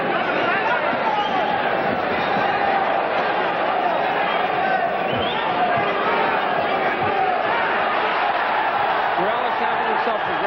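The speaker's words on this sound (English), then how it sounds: "Erik Morales gets a rise out of the crowd." A boxing arena crowd roars continuously during the Erik Morales vs John Lowey fight, a dense, loud, sustained wall of cheering and hubbub with a commentator talking over it.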